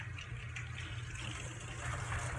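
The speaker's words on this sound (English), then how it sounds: "you're going to add some cold water." Cold water pouring into a bowl of raw shrimp being rinsed in a kitchen, a steady close splashing and trickling that runs without pause and swells slightly toward the end.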